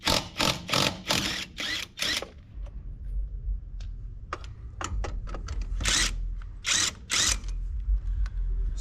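Impact wrench working on a wheel of a 2003 Ford F350 truck: a burst of loud rapid hammering rattles in the first two seconds, then shorter choppy bursts and clicks over a low engine or compressor rumble.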